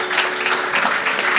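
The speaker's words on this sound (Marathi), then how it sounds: "परत एकदा टाळ्या लावणीसाठी." Audience applauding a lavani dance performance, a dense, steady wash of many hands clapping close by, filling the brief moment without pause.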